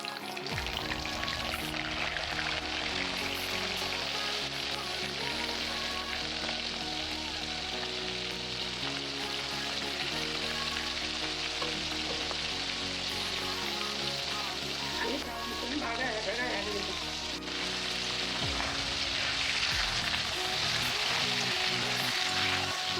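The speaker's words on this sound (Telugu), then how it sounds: "ఆయిల్ వేడెక్కింది ఇప్పుడు ఒక్కొక్క చేప ముక్కని వేసుకుంటాం" Dried fish pieces frying in hot palm oil in a pan, a steady dense sizzle and crackle that continues loud and close throughout with no pauses.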